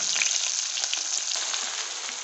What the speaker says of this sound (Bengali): আলুগুলো ভেজে নিয়ে তেলে তো ভেজে নেবো।